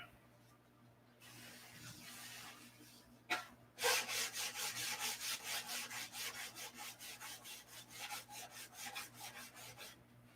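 A model aircraft surface is sanded by hand in quick rhythmic back-and-forth strokes, close and steady after a brief start, faint overall.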